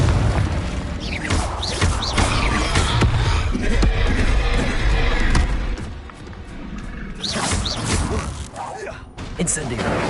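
Spell blasts booming and crashing in Hogwarts Legacy combat, heavy thuds and explosive bursts hitting one after another over constant battle noise, loud and dense throughout with a short dip midway.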